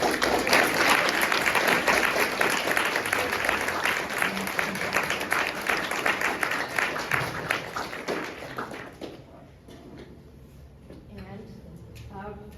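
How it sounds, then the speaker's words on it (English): A forum audience gives a sustained round of applause that is loud and dense for about nine seconds, then thins into scattered claps and murmuring voices. "let's give a big round of applause"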